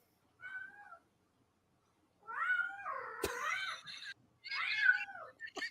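Several kittens meow loudly and close by in three separate bursts, the middle one long and shrill with overlapping cries, separated by short silences.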